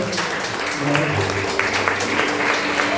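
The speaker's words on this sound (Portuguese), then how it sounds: "As palmas é do nosso Deus Todo-Poderoso." A church congregation claps, a sustained mass of hands applauding at moderate loudness with voices and low background sound underneath.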